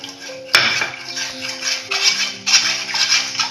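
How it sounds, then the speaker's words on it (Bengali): Sour yogurt (dahi) is mixed in a bowl with a spoon for homemade dahi. A sharp clank is followed by a steady run of scraping and tapping strokes, close and fairly loud, with a faint tonal hum underneath. "এবার আমি এই টক দইটাকে ভালো করে মেশাবো"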